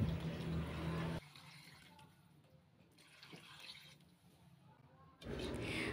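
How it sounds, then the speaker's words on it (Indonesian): Water pours into a pot of seasoned chicken being cooked as ayam ungkep, a loud splashing gush that stops, followed by a quieter pause and then a second burst of pouring. "Tambahkan air secukupnya"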